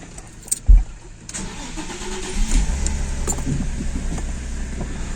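Audi C4 with a 2.6-litre ABC engine starting up after an oil change: a brief cranking burst, then the motor catches and settles into a steady, even idle close by.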